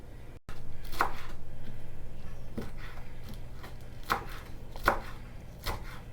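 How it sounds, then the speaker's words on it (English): A knife chops a handful of fresh cilantro by hand on a board, giving a few sharp, quiet thuds spaced irregularly over a low steady background hum, with no talk. "we're just going to use a handful of cilantro, and it's better hand chopped"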